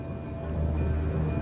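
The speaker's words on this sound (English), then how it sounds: "Weeks of unrelenting downpours drench the landscape." Heavy rain pours steadily in a seasonal downpour over open savanna landscape, a dense continuous hiss with a low rumbling undertone, even and unbroken throughout.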